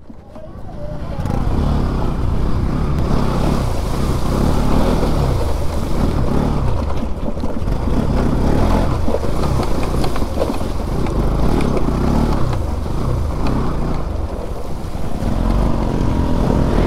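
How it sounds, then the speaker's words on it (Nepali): A motorcycle engine is held at steady high throttle while the bike crosses a river off-road, a loud continuous rumbling drone mixed with splashing water, lasting the full stretch. "थ्रोटल दिइराखे बाइकलाई, स्टार्ट बन्द हुन दिनुहुन्न है, इन्जिनमा पानी तान्छ"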